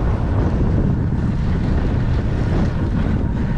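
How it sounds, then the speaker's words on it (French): Strong wind buffets the microphone during a mountain bike ride in a steady, loud roar with low rumbling gusts throughout. "Il y a du vent à mort aujourd'hui."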